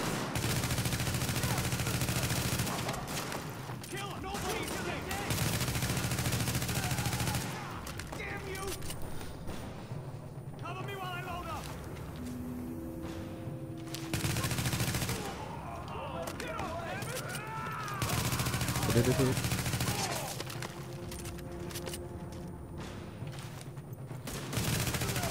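Bursts of gunfire from the shooter game The Division, with sustained volleys and scattered shots over mechanical game sounds, heard under a person talking at intervals.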